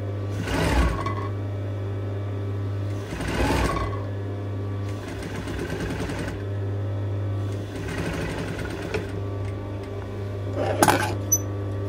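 Domestic sewing machine stitching fabric around the armhole of an A-line baby doll dress, several separate bursts of rapid whirring stitching, with a steady hum and quieter pauses in between.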